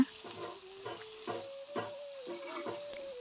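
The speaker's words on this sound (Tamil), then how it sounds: "இப்படியே நம்ம வதக்கி விட்டுட்டே இருக்கணும்" Goat lung pieces sizzling as they fry in a pan while a utensil stirs them in regular scrapes, close and moderately loud, with no speech.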